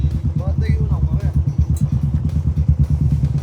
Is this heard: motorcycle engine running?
yes